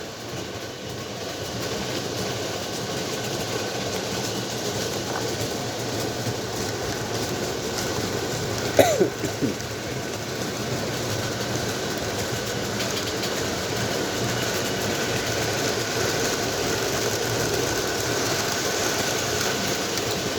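O gauge model Alco locomotives, double-headed, run along a toy track with a steady whirring motor hum and a faint rolling rumble, continuous and even throughout, with one brief click midway and no speech.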